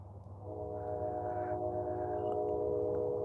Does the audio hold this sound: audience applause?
no